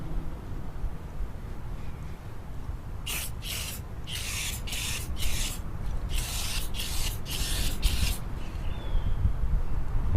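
A series of short hissing sprays, about eight quick bursts in a row, as product is sprayed onto a Camaro's tire, close by over a low background hum.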